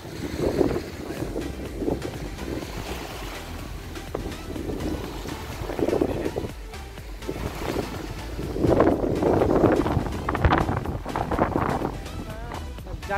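Strong, cold wind buffets the microphone in rushing gusts that rise and fall at Waterton National Park, Canada, with water and boat noise underneath and no clear talk.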